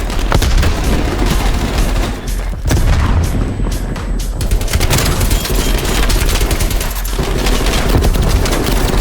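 Dense, continuous gunfire and booming explosions, including a grenade blast, in the Call of Duty Black Ops video game, loud and close throughout with rapid automatic fire and heavy thuds layered together.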